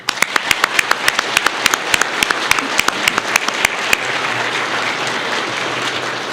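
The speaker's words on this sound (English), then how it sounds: "Another round of applause, please." Audience applause at a military retirement ceremony following a national anthem rendition, with loud sharp individual claps over a dense sustained crowd clapping that carries on steadily before tapering slightly toward the end.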